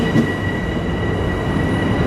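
Long Island Rail Road commuter train on the Huntington branch, a steady loud rumble of rolling rail cars with a faint high wheel tone, close and continuous.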